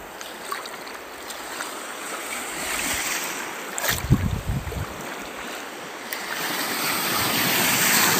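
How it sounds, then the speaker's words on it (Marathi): Sea waves wash around a small fishing boat on traditional Konkan coastal fishing, a steady rushing surf with wind noise and a brief heavier slosh near the middle. "लाटा भरपूर आहेत तरी"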